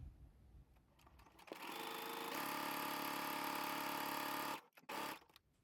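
A sewing machine runs a straight stitch at stitch length 3 through gabardine fabric with some elastane, a close, steady whirring hum that holds for a few seconds before stopping, then a brief second burst.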